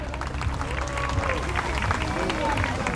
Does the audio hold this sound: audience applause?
yes